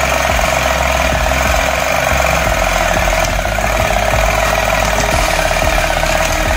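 Battery-powered toy motorcycle track racing game for kids, switched on and running: a continuous loud mechanical whir with rapid rattling, clicking pulses from the moving track and bikes, close and steady throughout.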